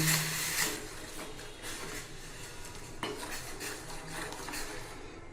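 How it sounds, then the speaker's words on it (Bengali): Lemon tea being stirred in a pot, with soft metallic clinks and scrapes of a utensil against the pot at a moderate, uneven pace, fairly quiet and without speech. "এবার একটু নেড়ে নিচ্ছি"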